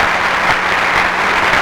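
A pageant audience claps in a dense, steady burst of applause filling a large hall, loud and continuous for the whole moment.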